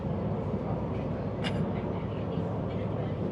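Steady low rumble of a train carriage in motion in Malaysia approaching a station, with a brief squeal of metal partway through and a voice speaking over it.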